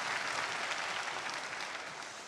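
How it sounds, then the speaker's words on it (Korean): A church congregation gives welcoming applause after a prayer, steady massed clapping from a room of worshippers, moderately faint and even throughout, easing slightly toward the end. "다 같이 환영과 격려와 축복의 박수 보내주시겠습니다."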